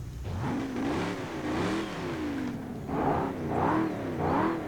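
In the video game Forza Horizon 5, a GMC Jimny's engine revs in repeated rising and falling bursts, the mid-pitched growl climbing several times in a row, with no talking.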